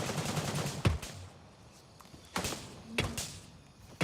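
AK rifle fire in a first-person shooter game comes as a few sharp separate shots spread across the span, fairly faint, with quiet gaps between them and no talk.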